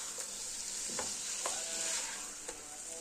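Chicken pieces searing in a hot pot, with a steady loud sizzle throughout and a few soft clinks and scrapes from stirring, close up with no voices.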